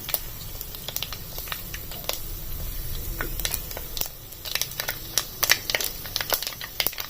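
Mustard seeds and fenugreek spluttering in hot oil while tempering for a mango curry: a dense, irregular crackle of sharp pops and sizzle that runs steadily throughout, close and fairly quiet.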